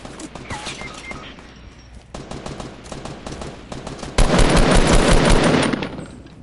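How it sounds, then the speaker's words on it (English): Fortnite gunfire rattles in rapid bursts, sparse automatic shots at first, then a heavy, dense volley near the end, loud and close in a game setting. "Someone shooting at us."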